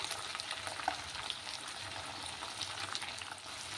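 Small tangra fish fry in hot oil for a small-fish curry, a steady dense sizzle holding close and even throughout with occasional faint pops and no talking.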